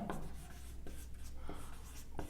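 Chalk or marker strokes scratch across a board in short, quick bursts, several in a row at close range, with no talking.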